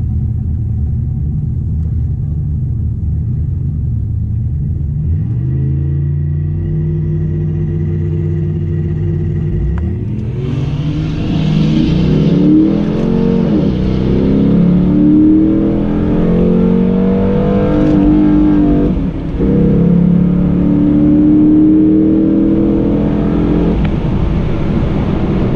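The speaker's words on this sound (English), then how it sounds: "Racing this fast Mustang." Ford Mustang race car engine revving and accelerating hard, a loud close rumble that climbs in pitch through repeated gear pulls, with no talk over it.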